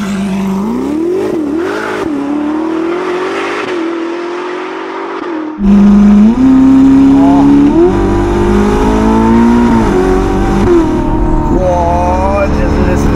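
A Ferrari SF90 Spider hybrid with a Novitec exhaust revs loudly and up close. The engine note climbs and falls in repeated throttle blips, then roars harder as it accelerates in a sustained, rising drone.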